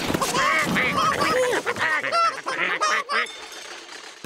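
Cartoon farm ducks quack and honk in a busy, overlapping chorus, loud and close, over light background music.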